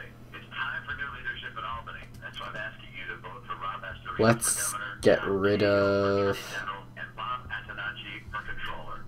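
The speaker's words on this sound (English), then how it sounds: "Sorry about the phone ringing, guys." A telephone rings in the background with a brief electronic ring, while a person talks over it.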